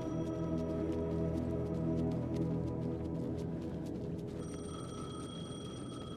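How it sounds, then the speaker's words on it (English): A telephone rings in the video game Alan Wake II, a steady electronic trill repeating over a low, sustained ambient drone that fills the scene, with no voices. "Phone was ringing."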